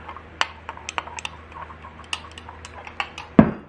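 A utensil clicks and taps against a container while dye drops are mixed into a glow-in-the-dark bait mixture, with sharp irregular ticks and a louder clatter near the end, close and quiet between hits.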